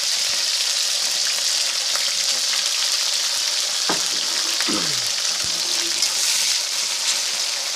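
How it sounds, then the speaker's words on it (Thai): Crickets fry in hot oil for chili paste, giving a loud, continuous sizzle with occasional stirring clinks and scrapes close by, while no one speaks. "นี่ใส่น้ำมันไปแล้วนะครับ จะมาทอดนะครับ"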